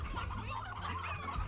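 Chickens on a farm in the video game Slime Rancher cluck briefly, a quick burst of clucking lasting about a second and a half, clear and fairly close.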